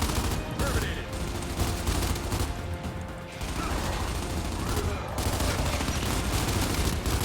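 Dense rapid gunfire from a weapon in the video game Gears 5 rattles in sustained bursts with brief gaps, loud and close, with mechanical clatter mixed in.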